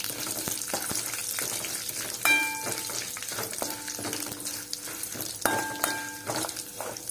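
Curry leaves fry in hot oil in a pan for egg paniyaram, a loud continuous sizzle broken by stirring scrapes and a few ringing metallic clinks of a utensil against the pan, no talk.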